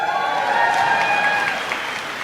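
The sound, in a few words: audience applause at a commencement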